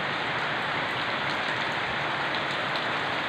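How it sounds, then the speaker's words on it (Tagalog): Steady, dense rain pours down during a flood at Sta. Ana, Bulakan, Bulacan, a loud continuous wash with raindrops pattering on surfaces, heard alone with no breaks. "tapos nabayan pa ng ulan"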